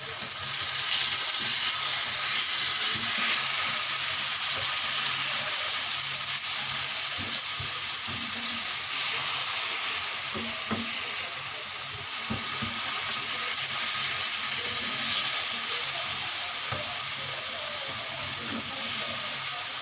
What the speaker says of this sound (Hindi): अब हम इसमें ये टमाटर और मिर्च ऐड करें।